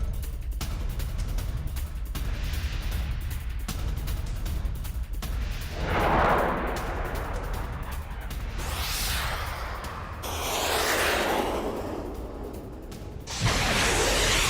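Missiles strike a weapons depot in the Russia-Ukraine war, a continuous heavy rumble of explosions with booms and rushing whooshes, loud and dense throughout.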